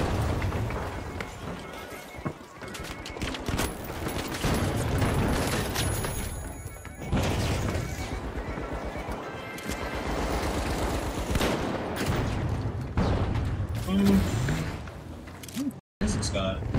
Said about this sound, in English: I have no idea where these explosions are going off.